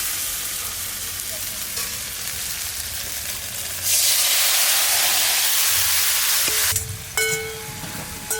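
Raw cumin paste with bay leaf and whole cumin hits hot oil in a village kitchen pan, a steady sizzle that surges into a loud, hissing fry midway, then eases with stirring scrapes and clinks.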